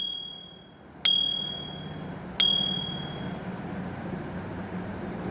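A school bell is struck twice, about a second apart. Each stroke gives a sharp metallic clang with a lingering ringing tone, alone over a low background hum.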